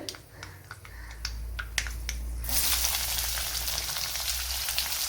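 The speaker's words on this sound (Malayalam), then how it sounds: "ഇവിടെ കടുക് പൊട്ടിയിട്ടുണ്ട്" A few sharp pops and crackles, then a sudden burst of dense spluttering and sizzling as mustard seeds burst in hot oil.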